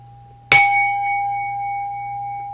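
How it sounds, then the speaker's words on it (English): A single bell struck once, sharp and clear, with a long ringing tone that slowly fades over a low steady hum. "Somebody ringing the bell?"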